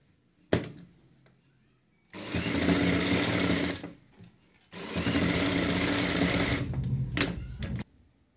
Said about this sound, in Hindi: आगे की साइड भी हम यहाँ पे सिलाई से इसको तैयार कर लेते हैं